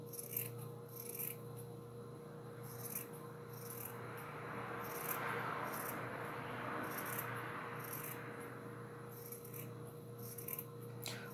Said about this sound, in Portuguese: E aí, vamos estar cortando ele até o final.